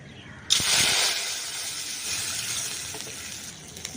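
A bowl of water hits a hot cooking pan with a sudden loud hiss that settles into a steady sizzling and steaming roar, fading slightly but lasting through the rest of the clip.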